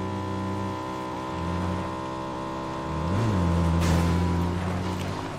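A car driven in PUBG produces a steady humming engine drone with layered tonal harmonics, rising briefly in pitch and loudness midway as it accelerates.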